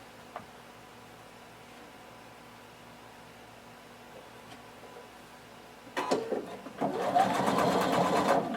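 Near the end a sewing machine starts up to stitch a seam on a pair of shorts, a short burst and then a steady whirring run after a quiet stretch of room hum.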